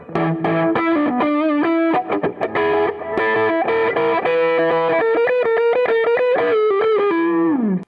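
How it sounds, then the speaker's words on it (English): Heavily distorted electric guitar, an Eastwood Hi-Flier, playing bending, wavering microtonal notes and chords, loud and continuous with a thick, saturated tone. "play microtonal guitar with heavy distortion"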